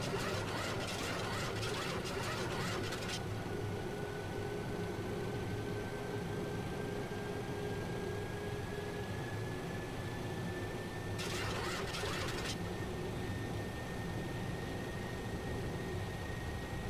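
The flap lever of an IXEG 737 in X-Plane 11 is moved to the 30 setting during a stormy approach into Dublin. Two short bursts of ratcheting mechanical clicks, one at the start and one later, sit over a steady cockpit engine hum.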